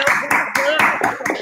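Bursts of clapping from a small group at a union gathering, several uneven rounds separated by brief gaps, with voices speaking over and between them.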